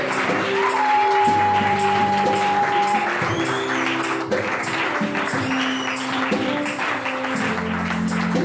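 A church congregation acclaims the Lord with sustained clapping and cheering voices, filling the room steadily over music and a few spoken calls.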